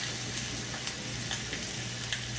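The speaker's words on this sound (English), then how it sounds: "We're going to see if we can get all these seared." Pork country ribs searing in a pan, a dense, even, close-up sizzle with faint crackles and no voices.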